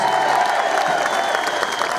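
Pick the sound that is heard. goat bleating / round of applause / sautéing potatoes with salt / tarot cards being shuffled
round of applause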